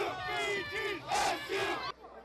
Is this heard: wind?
no